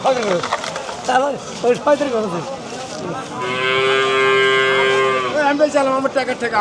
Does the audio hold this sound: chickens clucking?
no